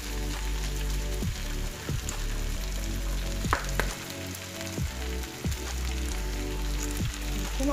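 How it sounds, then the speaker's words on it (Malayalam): Coconut pieces drop into hot oil in a pan of frying mutton roast, setting off a steady close sizzle with a few stirring scrapes and clinks, and no one speaking. "അപ്പോൾ നമുക്ക് ഇതിലേക്ക് നാളികേരക്കൊത്ത് ഇട്ട് കൊടുക്കാം"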